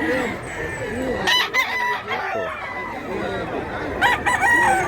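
Roosters crowing at a chicken market, several overlapping cock-a-doodle-doos and clucks from birds nearby, with voices talking underneath.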